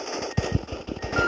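Machine gun firing in the Respawnables video game, a quick series of punchy shots in uneven bursts at moderate loudness with no talking.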